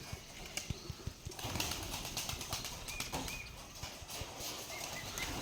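Rajshahi Giribaj pigeons beat their wings in sharp, close bursts of flapping as they are brought down, with scattered soft taps, rustling, and faint chirps in a quiet outdoor setting.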